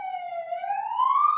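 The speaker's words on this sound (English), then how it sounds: "if you hear a siren, I'm sorry, there's an ambulance going by" An ambulance siren wails steadily as the vehicle passes, its tone sliding slowly upward over a short stretch, fairly loud and with no talk over it.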